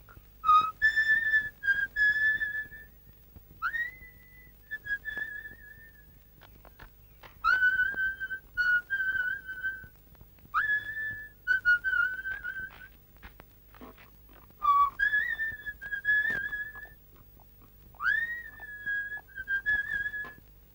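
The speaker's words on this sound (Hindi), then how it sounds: "सीटी तो तुम बहुत अच्छी बजाते हो।" A person in a Hindi film whistles a tune, clear, bright, melodic phrases that come in several separate bursts with short pauses between them. The whistling is close and stands alone without speech.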